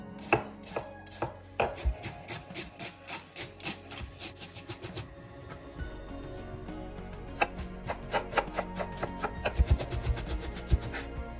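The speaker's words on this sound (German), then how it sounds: "Die Zwiebel wird ebenfalls klein zusammengeschnitten." A knife chops an onion finely on a board, a brisk regular series of crisp taps that speeds into a dense rapid run, close and clear with no talking.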